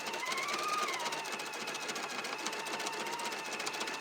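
An embroidery machine stitches out an edge-to-edge quilt design in a fast, steady mechanical whir with a rapid needle rhythm, continuous and fairly close, with no talking.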